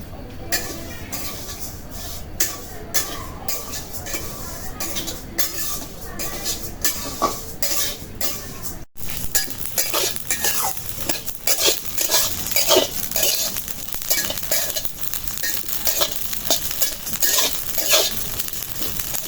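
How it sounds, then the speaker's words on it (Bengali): Cumin seeds crackle and sizzle in a hot kadai, with a spoon scraping and clinking against the metal throughout, steady and close. "এখন কাঁচা জিরা ভাজার জন্য কড়াইটা বসাই দিই জিরা দিয়ে দিছি কড়াইতে"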